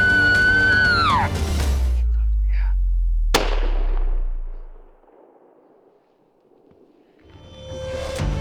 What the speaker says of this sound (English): This was a big bull, and all Peter had to do was make the shot